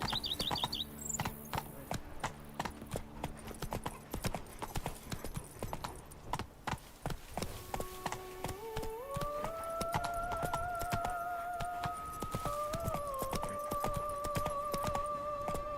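Roach the horse gallops in The Witcher 3, with quick rhythmic hoofbeats that clop steadily and close throughout, underneath game music that rises partway through.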